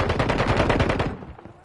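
Rapid automatic gunfire from a Call of Duty MW3 match, a dense, loud burst of machine-gun shots in quick rhythm that thins out toward the end.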